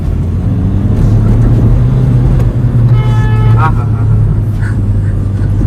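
A stage 2 tuned Hyundai Verna Fluidic diesel with a downpipe drives in second gear, a loud, steady low engine drone heard from inside the car, with voices talking over it and a short horn toot partway through.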